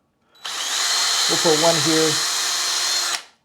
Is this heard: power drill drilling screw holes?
yes